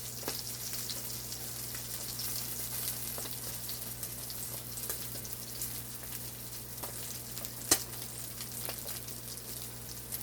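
Small sprat herring fry in hot oil for Jamaican fried fish, a steady, faint hiss of sizzling bubbles with an occasional soft pop, continuous and unbroken, with no voices over it.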